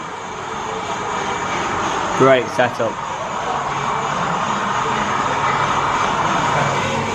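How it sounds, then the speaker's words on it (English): A Hornby model train locomotive runs on a detailed layout at the Hornby visitor centre in Margate, giving a steady whirring drone that fills the scene, with a brief spoken voice over it partway through. "Here comes the loco again, just here. Here comes the train."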